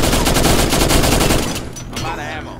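Rapid automatic fire from a Vector SMG in the video game State of Decay, a loud dense stream of shots that stops abruptly, followed by quieter clinks and ambient sound.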